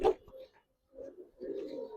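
A pair of domestic pigeons, including a red-eyed male, coo nearby in two low, throaty bursts separated by a brief silence.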